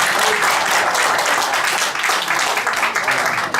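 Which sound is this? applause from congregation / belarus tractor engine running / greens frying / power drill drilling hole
applause from congregation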